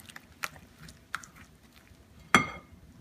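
Chewing and soft mouth sounds while tasting savory pudla pancake batter, a few faint bites followed by one sharper, louder click or smack near the end, close up in a quiet kitchen.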